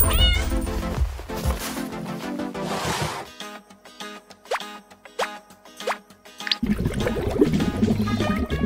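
A domestic cat meows several times in short rising calls between stretches of background music, the meows fairly close and clear, with no talking.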